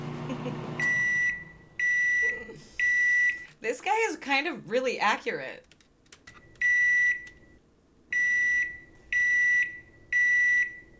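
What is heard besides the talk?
microwave oven running and beeping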